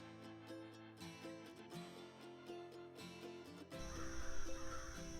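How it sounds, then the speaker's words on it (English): Crows caw repeatedly outdoors in the morning, faint and distant over a steady tonal hum, with a louder rumbling noise rising near the end. "the wild animal crows are just having a good time this morning"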